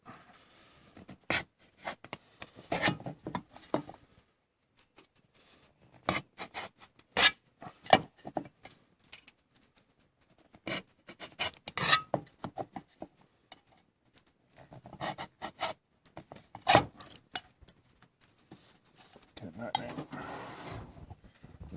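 Stanley 10-049 pocket knife cutting into wood, heard as a series of short scraping and rubbing cuts in irregular bursts, close up and moderately quiet, with pauses between strokes.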